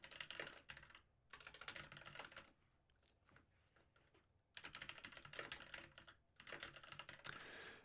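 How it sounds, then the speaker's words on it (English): Bursts of clicking computer-keyboard typing come in quick flurries separated by short pauses, close and moderately quiet, with no voices. "I have to learn how to type faster."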